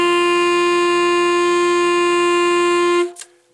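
A single sustained alto saxophone note, a D, steady and bright with rich overtones, held for about three seconds before stopping cleanly.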